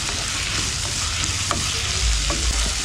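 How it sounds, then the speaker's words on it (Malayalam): Chopped tomatoes, two of them, sauté with onions in a pan for a Kerala-style beef masala, giving a steady close sizzle with a few scraping stirs and no talking. "നമ്മൾ അരിഞ്ഞ് വെച്ചിട്ടുള്ള തക്കാളി ചേർത്ത് കൊടുക്കാം. 2 തക്കാളിയാണ് ഞാൻ എടുത്തത്. നന്നായിട്ടൊന്ന് വഴറ്റി കൊടുക്കാം."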